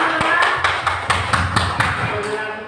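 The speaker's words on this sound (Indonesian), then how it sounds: "Baik, tepuk tangan untuk kita semua." Adults at a school training session clapping together in a spaced rhythmic pattern, with sharp group claps recurring roughly every half second over a steady background of room noise and murmuring.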